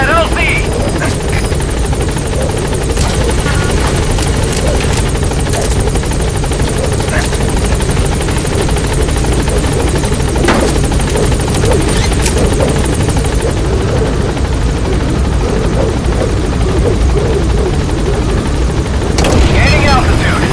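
Helicopter B-Quad arriving at a landing zone in Metal Gear Solid V: The Phantom Pain, a loud, close, continuous rotor thump and engine whine throughout, with radio voices speaking over it.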